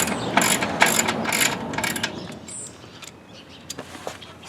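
A ratchet tightening bolts while an engine and transmission are installed in a car, rapid clicking strokes in bursts close by, then a quieter pause with a few faint clicks.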